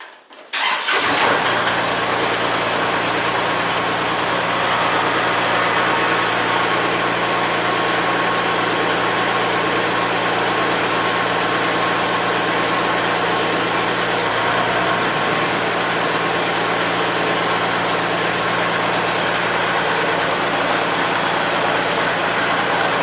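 Tractor engine starting and then idling steadily while a WoodMaxx backhoe attachment is fitted, a loud, constant mid-pitched drone that runs unbroken after a brief cranking start.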